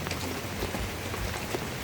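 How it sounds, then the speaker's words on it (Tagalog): Light drizzle falls steadily on surfaces in Nasugbu, Batangas as Super Typhoon Uwan approaches, giving a continuous soft patter and hiss with no wind gusts. "Pero ang ulan, ito, ambon pa lang yan ha."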